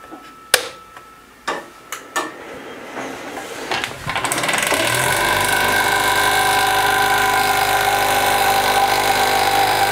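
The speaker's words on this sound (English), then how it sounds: "Next up, the almighty Premier pump" A Harvest Right freeze dryer's Premier vacuum pump is started after a few sharp clicks and knocks, then settles into a steady, loud mechanical whine and hum that keeps running through the rest of the clip.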